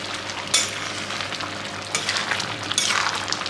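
Ghee-finished jackfruit and prawn curry stirred in a pan, giving a steady close sizzle with scraping stir bursts that swell near the start and again toward the end, with no talking.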